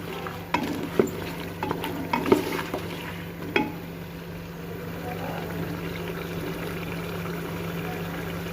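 Beef and potatoes fry in a pot for desi-style aloo gosht, giving a low steady sizzle with several sharp clinks and scrapes of stirring in the first few seconds, then a calmer continuous frying hiss.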